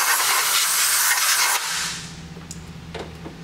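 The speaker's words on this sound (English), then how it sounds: "You can take your compressed air," Compressed air blasts in a loud, steady broadband hiss for about a second and a half, cleaning out a tankless water heater, then drops away to a low hum with faint clicks.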